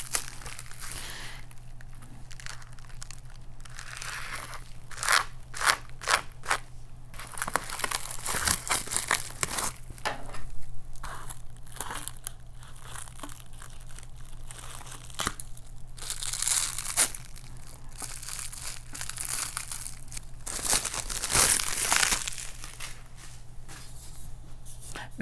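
Packaging around a Procolored A4 desktop DTF printer is unwrapped, giving a long run of close, irregular crinkling, rustling and occasional tearing of plastic and wrap, louder in scattered bursts, with no voices.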